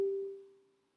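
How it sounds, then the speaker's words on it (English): A single Facebook message notification ping on a computer during an online rapid chess game, a short clear tone that decays over about a second, faint and alone. "that was the sound of someone pinging me on Facebook"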